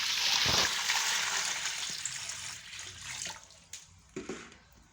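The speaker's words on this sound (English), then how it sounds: "you go inside the bowl and pour a water inside the bowl like this." Water pours from a tap into a bowl for a foot wash, a steady splashing stream that fades out, followed by a few quieter drips and knocks.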